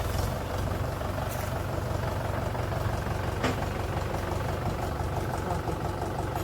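A tractor used for hauling harvested sugarcane idles in a field, a steady, low mechanical rumble with a faint rhythmic throb, moderately close and continuous with no talking.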